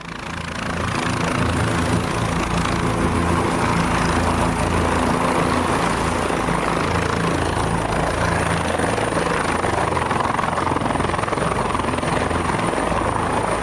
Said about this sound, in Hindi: यही है वो हेलीकॉप्टर जिससे मदुरो को लाया गया।